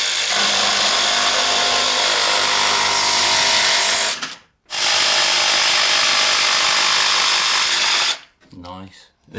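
A power tool cuts a curvy bass guitar pickguard in two long, loud, steady whining bursts, broken by a brief pause, then stops, followed by a short voice.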